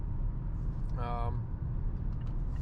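Wind and road noise inside a 2022 facelift Mazda CX-5 with a 2.5 SkyActiv-G engine and six-speed automatic at 100 km/h, a steady low cabin rumble with a brief tonal whine in the middle.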